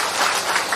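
Audience applause in a religious lecture gathering in Indonesia, a dense broadband wash of clapping filling the short moment without voices over it.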